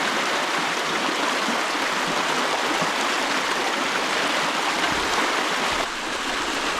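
Creek water rushes steadily through a breached beaver dam, a continuous broadband gush of draining water, close and even throughout with no voices.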